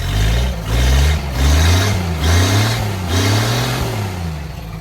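Engine of a 90-year-old car revving loudly after a carburetor tune-up, several rising and falling throttle bursts close by with a steady mid-pitched drone, no talking.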